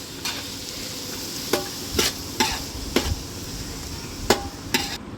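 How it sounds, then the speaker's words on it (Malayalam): Crushed ginger, green chilli and garlic sizzle in a pan while a utensil stirs, giving about eight sharp scraping clinks against the pan over a steady frying hiss. "ഇഞ്ചി, പച്ചമുളക്, വെളുത്തുള്ളി ചതച്ചത് ഇട്ട് മൂപ്പിക്കണം."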